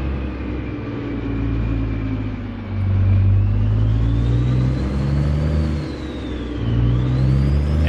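A truck engine in American Truck Simulator drones loudly and steadily with a deep rumble, its pitch rising and falling as the rig accelerates and shifts, with no voices.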